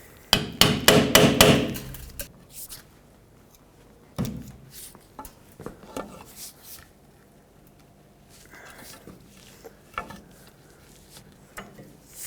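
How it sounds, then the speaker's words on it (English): Steel pry bar tapping the seal out of a rear outer wheel bearing hub on a 2008-2010 Ford F-250, with a quick burst of close metallic taps followed by scattered knocks and clanks. "Grab a pry bar, just tap the seal out of here."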